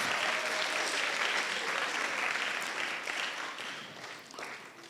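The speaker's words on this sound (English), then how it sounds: "may we applaud her for the good work." A school day audience applauds with steady, dense clapping that holds strong, then thins slightly toward the end.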